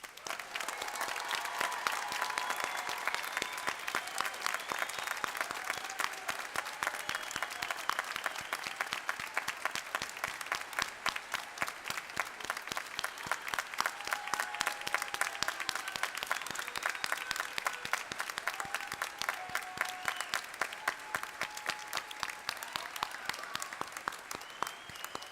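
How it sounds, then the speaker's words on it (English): A large crowd at a health sciences graduate commencement applauds the class of 2019, continuous dense clapping holding steady and loud for the full stretch without any talk. "let us applaud the class of 2019"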